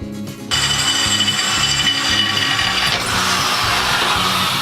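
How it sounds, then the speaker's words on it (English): After a moment of quiet, a loud power drill kicks in and grinds continuously into wood, harsh and close, boring a mounting hole. "I need to drill one more mounting hole"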